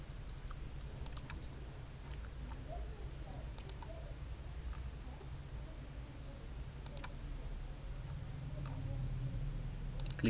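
Computer mouse clicks while working in a SolidWorks sketch, a few faint, sharp single and double clicks scattered over quiet room hum, with no talking.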